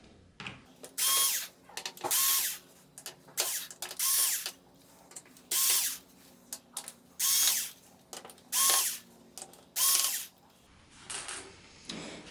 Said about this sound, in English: you just take your drill and get these screws out.